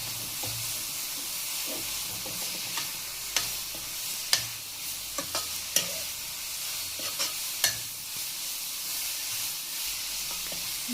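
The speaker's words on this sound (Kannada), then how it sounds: "ನೆಕ್ಸ್ಟ್ ಇದಕ್ಕೆ ಸ್ವಲ್ಪ ಶುಂಠಿ ಬೆಳ್ಳುಳ್ಳಿ ಪೇಸ್ಟ್ ಹಾಕಿ ಫ್ರೈ ಮಾಡಿ." Ginger garlic paste fries in a pan with a continuous hissing sizzle, while a utensil scrapes and taps against the metal at irregular intervals, close and fairly loud with no talking.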